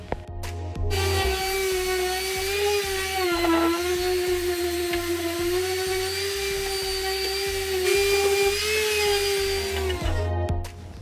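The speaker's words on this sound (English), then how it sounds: "After the wood filler has dried, I sanded it off with my P150 sanding grid." A steady, high-pitched motorized whine runs continuously for several seconds, close and loud, with slight pitch wobbles, as a power sander with P150 grit sands dried wood filler off a wooden bar stool.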